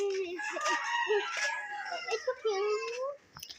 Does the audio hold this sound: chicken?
yes